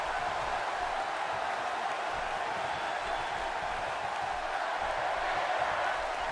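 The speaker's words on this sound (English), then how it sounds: "the crowd seems to be backing him here, so that always helps" Crowd cheering from a WWE wrestling video game, a steady dense roar of arena noise that holds at an even level throughout, with no clear voices standing out.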